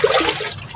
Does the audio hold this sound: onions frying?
no